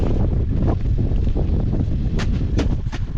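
Strong gusty wind buffets the microphone in a continuous rumbling roar, with a few sharp thumps near the end.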